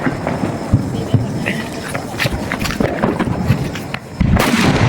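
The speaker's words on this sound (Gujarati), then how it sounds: "સિંદરી બોમ્બ આપણા ભાણભાઈ સિંદરી બોમ્બ ફોડે છે" A sutli bomb firecracker goes off during a Diwali celebration: several sharp bangs crackle over a loud crowd din, with voices throughout and a heavy, close burst near the end.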